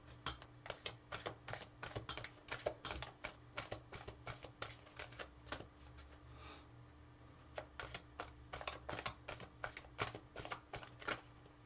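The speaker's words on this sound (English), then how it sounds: "I'm over here shuffling so I don't mess up my shoulder." A deck of cards being shuffled over and over during a reading session, with rapid, steady riffling clicks that run almost continuously and sit close and fairly quiet, with no talking.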